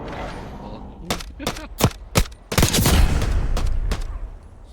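Rapid bursts of video game gunfire crack out in a series of sharp shots, followed by sustained loud firing and rumbling.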